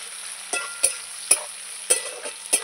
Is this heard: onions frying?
yes